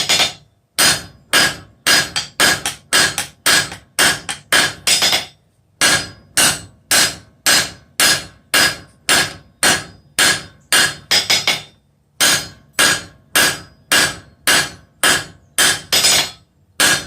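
Hammer blows ring out on hot steel as a bick iron is forged on an anvil: loud, evenly paced strikes in three long runs separated by short pauses, with no talking.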